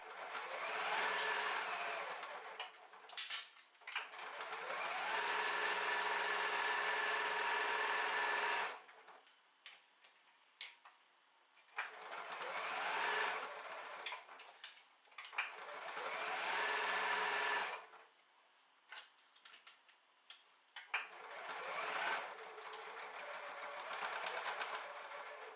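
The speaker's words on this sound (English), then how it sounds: "You want to make sure you backstitch at the start and end of the lining gap to prevent your stitches" Sewing machine stitching the fabric lining of a zippered pencil case: several runs of steady, rapid mechanical whirring, each a few seconds long, separated by short quiet pauses, fairly faint and with no talk.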